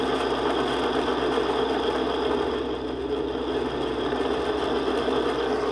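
A repaired electric scooter motor spins steadily, giving a continuous, even whirring hum with a buzzing edge that stays loud and unchanged throughout, with no voices.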